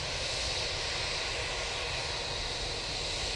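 Emirates airliner at Manchester Airport producing a loud, continuous broadband engine roar, steady and close, with no voices over it.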